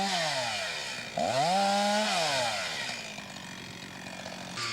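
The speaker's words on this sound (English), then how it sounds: "well, we've got the chainsaw." A chainsaw engine revs up and down, loud and close, its pitch rising sharply then settling into a steady running drone.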